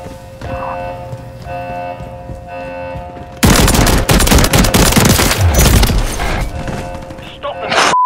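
Call of Duty MW3 multiplayer gunfire erupts midway as loud, sustained automatic bursts and rapid shots, following a quieter stretch of game ambience and tones, with game voices present.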